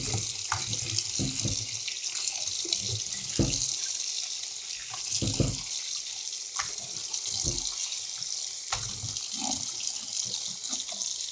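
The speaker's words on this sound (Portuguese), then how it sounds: "Lavar bastante água corrente." A cucumber, salted and left to dehydrate, is rinsed under a steadily running kitchen tap: continuous splashing water with occasional knocks and handling noises, close and moderately loud, with no talking.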